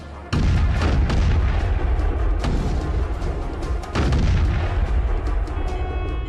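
Movie-style heavy gunfire aimed at a shark, rapid booming shots in a dense loud barrage that dips briefly then resumes, with no talk over it.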